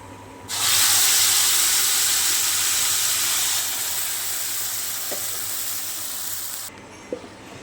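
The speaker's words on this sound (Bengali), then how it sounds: "তেল গরম হয়ে এসছে তেলের মধ্যে দিয়ে দিলাম কালো জিরে" Nigella seeds, black cumin, dropped into hot oil give a sudden loud, broad hiss that holds steady for several seconds and then cuts off abruptly, with faint clinks of utensils near the end.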